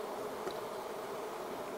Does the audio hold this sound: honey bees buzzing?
yes